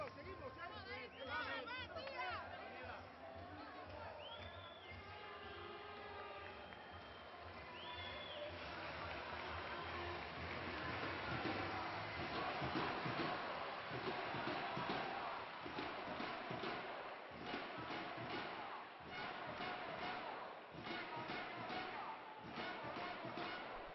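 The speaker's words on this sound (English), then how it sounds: "Salamanca crowd trying to inspire their team again." A basketball arena crowd in Salamanca makes a sustained roar of cheering and chanting, steady and far-reaching, with scattered horn blasts near the start and an announcer talking over it.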